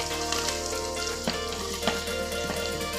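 Ginger, chili, carrot and onion fry for upma while being stirred, giving a loud, steady close-up sizzle with occasional soft scrapes and taps of the spoon and no talking.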